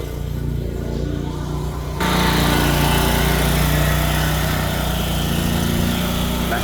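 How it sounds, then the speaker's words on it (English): A lawn mower engine drones steadily nearby, growing louder partway through as it approaches, then holding a constant buzzing roar with no talk over it. "here comes the lawnmower back"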